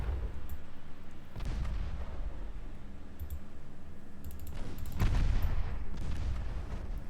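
Naval guns booming in the warship strategy game Ultimate Admiral Dreadnoughts, several dull, heavy thuds at uneven intervals with light clicking between them, moderately loud and without speech.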